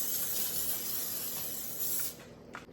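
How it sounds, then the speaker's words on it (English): Olive oil spray hisses from a can onto stuffed crabs in a short, steady burst lasting about two seconds, close and clear, then cuts off into a quieter moment. "Olive oil spray."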